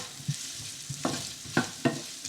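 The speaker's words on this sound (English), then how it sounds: "we're going to saute the onions till they turn translucent" Half a red onion with green cardamom sautés over medium heat in a pan for paneer butter masala, a steady soft sizzle broken by several sharp scraping stirs, close and moderately loud, with no voices.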